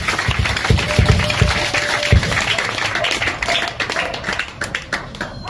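A church congregation claps in acclamation, a dense steady wash of many hands with a few louder claps standing out near the start, lasting the whole stretch with no talk over it.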